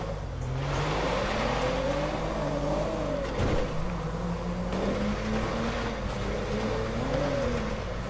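Toyota Corolla struggling off-road in GTA 5, engine revving and straining in rising and falling surges with a brief thump, moderately loud and steady, no talk.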